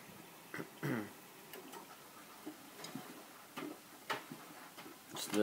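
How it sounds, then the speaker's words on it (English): Zips on hoodies clicking and clattering inside the drum of a Miele W562 washing machine as it tumbles an absorbent load, giving irregular faint ticks and knocks against low machine rumble. "Hoodie zips you can hear going around."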